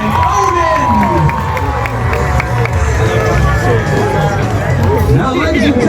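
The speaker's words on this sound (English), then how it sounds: "Ladies and gentlemen, how about a nice round of applause for the team of Andrew and Odin." A dense, loud crowd cheering and applauding for a competing team at a Renaissance fair, with continuous babble and shouts filling the whole stretch and an announcer's voice partly mixed in.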